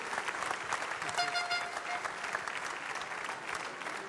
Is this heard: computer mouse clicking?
no